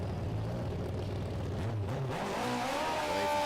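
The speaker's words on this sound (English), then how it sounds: "get his bike fired up, and it's another one of those classic burnouts" At a drag strip, a drag racing motorcycle roars through a burnout, the engine revving hard and steady with rising pitch, loud amid the track ambience.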